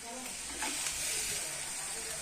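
Masala for a cashew curry fries in oil while being stirred, a steady soft sizzle and hiss with faint scraping, quiet and close, with no one speaking.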